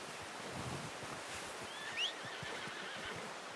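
In Red Dead Redemption 2, a horse gives a single short whinny midway through, set against a quiet, steady outdoor ambience of soft wind and low rumble.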